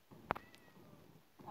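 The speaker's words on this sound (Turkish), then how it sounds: "Kedi varmış oyunda." A short cat meow from the video game Minecraft, a single sharp mew followed by a fainter second one, close and clear over quiet game ambience.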